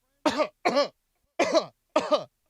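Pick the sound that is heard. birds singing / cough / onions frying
cough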